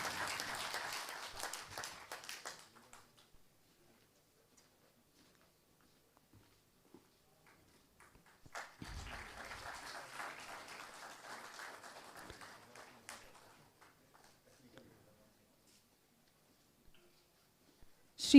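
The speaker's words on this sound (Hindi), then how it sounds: "तालियों की गड़गड़ाहट रुकनी नहीं चाहिए।" Audience applause at a government award ceremony honouring Anti-Corruption Bureau vigilance officers, arriving as two separate bursts of clapping, each lasting a few seconds, with near-silence between them.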